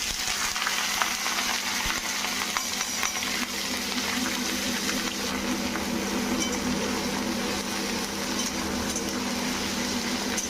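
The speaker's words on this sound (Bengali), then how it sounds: "अब मैं डालूंगी प्याज।" Onions fry in hot oil with a continuous dense sizzle and faint crackles, steady and close for several seconds, no talking.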